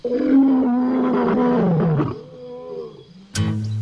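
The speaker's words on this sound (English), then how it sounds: "Check out that roar." A lion roars loudly and close for about two seconds, trailing into a lower rumbling growl, followed by another sharp burst of sound near the end.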